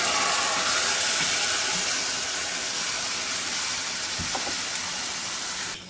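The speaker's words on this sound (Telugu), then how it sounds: "ఇప్పుడు మనము మ్యారినేట్ చేసుకున్న చికెన్ అయితే వేసేద్దాము" Marinated chicken with curd in a hot biryani pan fries with a loud, steady broadband hiss throughout, with a few faint knocks and no voices.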